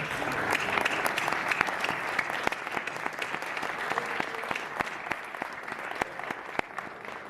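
An audience claps steadily, a dense patter of many hands applauding throughout without letting up.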